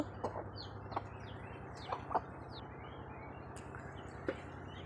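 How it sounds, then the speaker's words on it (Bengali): Soft, intermittent clucks from several sick chickens nearby, short calls scattered over a steady low mechanical hum. "আমার মুরগি মুরগিগুলো সব অসুস্থ"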